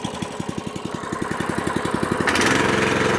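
A walk-behind tractor (motoblok) engine fires up and settles into a steady, loud, rapid chugging idle, rising in intensity near the end as it runs on alone without talk.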